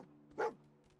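A single short dog bark in the video game Fallout 4, one sharp yelp standing out from a quiet low game ambience.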